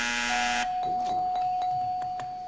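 A game show bell rings once to signal time is up, a bright sustained tone with a dense onset that cuts off, followed by a few faint clicks and a steady hum.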